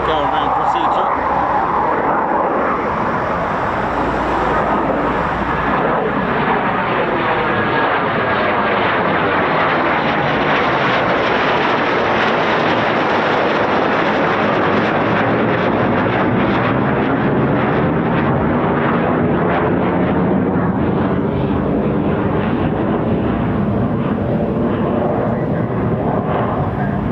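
A Eurofighter Typhoon FGR4 jet roars through a go-around at an RAF station, a loud, continuous engine rush that swells and shifts in pitch as it passes, with a voice talking faintly beneath.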